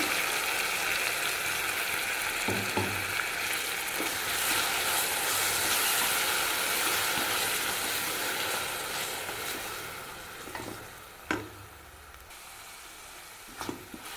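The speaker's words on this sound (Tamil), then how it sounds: "தக்காளி நல்லா வதங்கிடுச்சுங்க" Tomato puree sautéing in a pan for a vegetable kuzhambu fills the sound with a loud, continuous close sizzle and hiss that eases somewhat toward the end, broken by a few soft utensil knocks.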